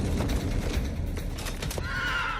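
A horse whinnies loudly while hooves clip-clop steadily underneath, close and continuous, with the neigh rising clearly near the end over a dense, noisy background.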